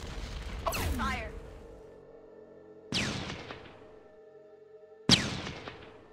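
Gunfire in the strategy game Shadow Empire lands as three spaced volleys, each a sharp, loud crack that trails off into a fading rumble before the next.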